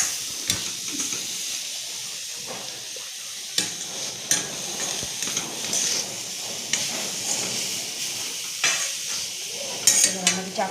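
Chopped carrot and beetroot frying with onions in a pan, a steady close sizzle and hiss with repeated scraping stirs and occasional clinks of the spatula against the pan.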